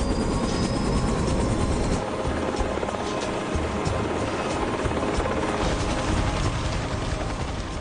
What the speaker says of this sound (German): Die Männer können nur mit Hubschraubern hierher transportiert werden.